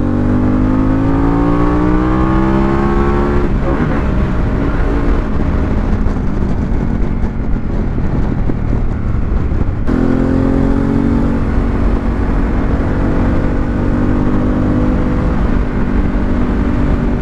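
A Harley-Davidson Pan America motorcycle engine revs and climbs in pitch, drops at a gear change, then rises again, loud and steady throughout.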